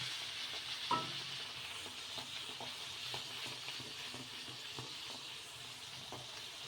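Moong dal puri frying in hot oil, a soft steady sizzle with faint bubbling, a brief sharp knock near the start and quiet scattered clicks from pressing and turning.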